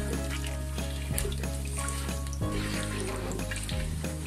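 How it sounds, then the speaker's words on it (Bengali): Cinnamon, cardamom and bay leaves fry in a pan over medium heat, giving a steady close sizzle with faint crackles, alone without talk. "চুলার আঁচটা মিডিয়ামে রেখে আমি একটু ভেজে নিচ্ছি।"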